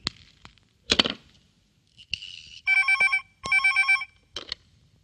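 Telephone ringing with an electronic warbling ring in two distinct bursts, preceded by a few sharp knocks and clicks in a quiet indoor scene.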